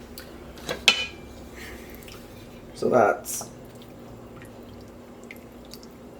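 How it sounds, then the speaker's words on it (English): Water swirled in an emptied tomato sauce jar and poured into a pot of broth: one brief splashing, gurgling burst mid-clip, with a few light drips and clinks around it and a short spoken remark. "And a little bit of water to rinse out the jar."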